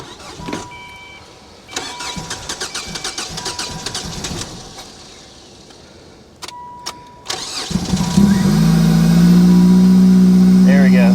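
A Ford Probe bought cheap at auction, run without its air box, cranks in repeated bursts before catching and settling into a loud steady idle, with a voice talking over the cranking.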